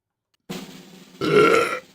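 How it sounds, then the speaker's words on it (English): A person lets out a loud, close burp in two stretched pulses lasting about a second and a half, alone with no talking around it. "I got a burp coming"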